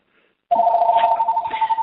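A phone rings with a steady, close electronic tone that starts abruptly and holds unbroken, loud and alone, with no voices over it.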